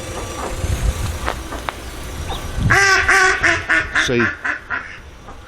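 Ducks beside a canal near Turner Wood give a loud, close run of rapid quacks, following quieter background sounds and a brief word from a person.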